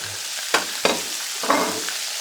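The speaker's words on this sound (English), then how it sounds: "Kind of stir this probably for cooking for another minute or so" Carrots being stirred in a frying pan, with a steady low sizzle broken by three or four scraping stir strokes, heard close and with no talk.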